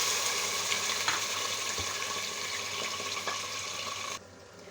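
Chicken frying in ghee in a pan, a steady close broadband sizzle with a few faint clinks, cutting off abruptly near the end to quieter background.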